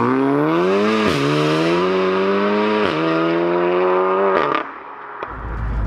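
A big-turbo 564bhp VW Golf R Mk7 accelerates hard, its loud, close engine note climbing through three quick gear changes before easing off at the end.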